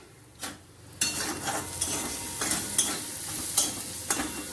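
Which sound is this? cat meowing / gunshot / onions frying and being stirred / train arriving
onions frying and being stirred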